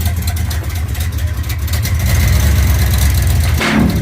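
A 1972 Chevelle's engine runs with a deep, close rumble as the car backs off a lift after some 21 years unmoved, the idle swelling slightly louder midway before a brief dip and return.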